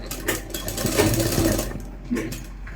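A sewing machine runs in a short, steady burst of stitching as a kurta lining is sewn, loud and close, then stops near the end.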